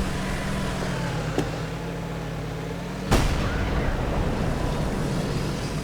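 A tank cannon fires once with a sharp, loud boom in a tank battle game involving a Type 59. A steady engine rumble runs beneath it, with a fainter earlier crack and a lingering rumble after the blast.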